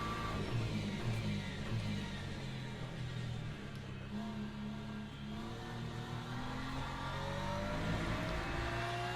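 A BMW race car engine in the Le Mans Ultimate sim racing game drones steadily and loud throughout, its pitch rising and falling through gear changes with no talk over it.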